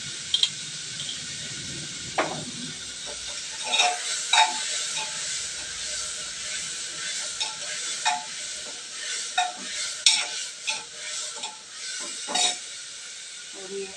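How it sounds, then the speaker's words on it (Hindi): Food frying in a pan with a pinch of salt gives a soft, steady hiss broken by repeated stirring scrapes and small bursts of sizzle, fairly close and moderately loud. "हल्का सा नमक डाल कर इसे फ्राई करिए।"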